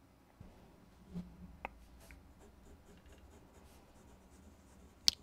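A Nahvalur fine nib fountain pen writes on paper with faint, scratchy strokes. A few soft taps and clicks sit over a quiet, steady background.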